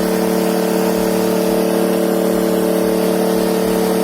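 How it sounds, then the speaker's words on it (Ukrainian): A LIFAN KP2800i-2 inverter petrol generator, 2.4 kW single-phase, runs loud and close, its steady engine drone holding a raised speed with a firm mechanical hum throughout. "генератор сам підвищив оберти"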